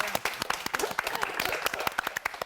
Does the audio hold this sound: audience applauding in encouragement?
yes